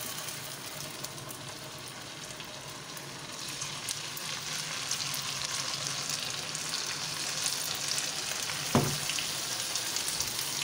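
Marinated chicken pieces fry in a pan over medium heat, giving a continuous dense sizzle and crackle with a brief clink near the end, and nobody talking.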